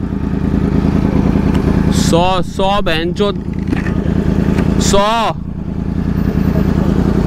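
A Kawasaki 10R and a Yamaha R1 superbike rev against each other in a public street battle, loud sustained engine roar with sharp rising throttle blips, while people shout and talk excitedly over it.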